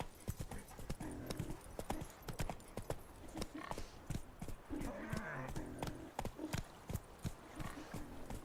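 Horse hooves clip-clop in The Witcher 3, a steady trotting rhythm of sharp close hoof strikes, with a brief whinny and voices talking over parts of it.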